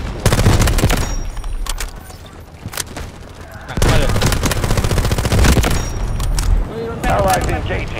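Rapid automatic gunfire from a gun in the shooter Delta Force, loud bursts with a short lull in the middle, then heavy firing again, with someone talking over parts of it.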